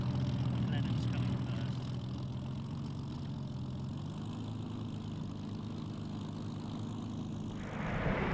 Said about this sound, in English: Here we see the Blenheim taxiing into position, dwarfed by the much larger B-17.